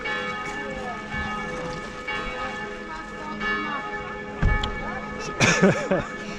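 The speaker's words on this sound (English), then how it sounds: "There are certain times of the week where the bells go off for 15 minutes." Church bells ring at the Einsiedeln Christmas market in Switzerland, with steady overlapping peals from a tower and other market sounds around them, including a few loud knocks and thuds near the end.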